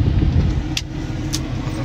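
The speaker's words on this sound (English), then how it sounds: "I'm driving Christy's truck now because she's too tired." Pickup truck driving on a road, a steady loud low engine and road rumble from inside the cab, with no talk.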